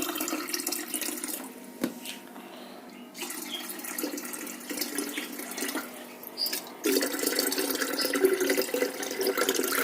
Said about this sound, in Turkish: Şimdi üstüne su ekliyorum. Maksa kadar dolduruyorum.